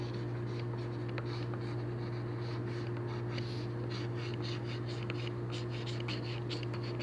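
Pen strokes scratching across paper while sketching spiky hair on a manga character, a steady run of short quick marks heard close over a constant electrical hum.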